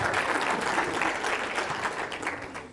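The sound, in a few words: audience applause at business seminar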